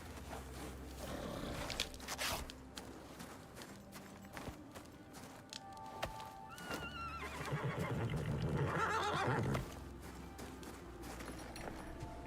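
A horse in the survival game Icarus whinnies loudly, a rising, shaky neigh that swells and then cuts off, over a bed of game ambience and clicks.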